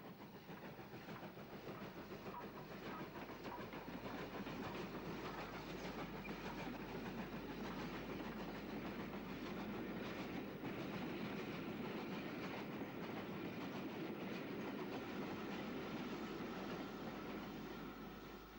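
Steam locomotive 80145 at the head of a returning special train for post office staff rumbles steadily past with a continuous clickety-clack of wheels on rail joints, faint and distant, with no voices.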